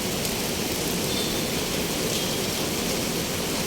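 Heavy rain pouring outdoors during a strong downpour, a dense, loud and steady hiss with no break, close to the listener and with no voices over it.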